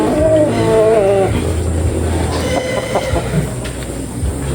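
Breeder chickens clucking close by, with a rooster's drawn-out call at the start over a steady, loud background rumble.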